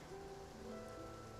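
Steady rain falls in Fontaine, the rainy opera-house city of Genshin Impact, a soft even patter with a faint low tonal hum beneath it and no voices.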